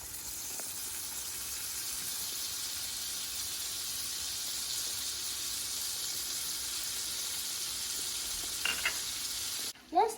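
Butter and oil sizzle steadily in a skillet, a continuous close frying hiss that holds evenly throughout, with a few small pops near the end.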